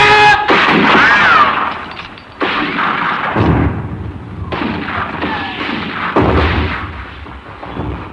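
Cannon fire in a staged battle scene, four heavy booming blasts spaced a couple of seconds apart, each with a rumbling decay, loud and close with some faint tonal noise between.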